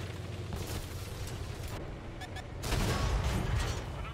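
A T26E4 SuperPershing tank gun fires in World of Tanks, a single loud heavy boom rising out of a rumbling engine and battle background, with speech nearby.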